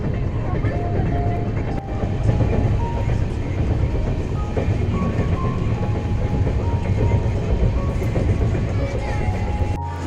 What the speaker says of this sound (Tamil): அந்த டபுள் டக்கு ட்ரெயினில் வந்து கீழே உட்காந்து இந்த வீடியோ எடுத்துருக்கேன்